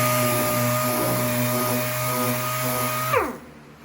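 A power sander grinds steadily against a 1977 Chevy Camaro body panel, a loud whining hum that holds for about three seconds, then spins down and stops.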